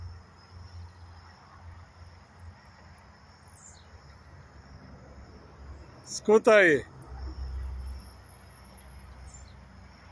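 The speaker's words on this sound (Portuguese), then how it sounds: "O pássaro, ele é bem interessante, ele só canta pulando." A blue-black grassquit (tiziu) in the Brazilian sertão gives one short, sharp buzzy call mid-clip over a steady drone of insects; someone speaks briefly.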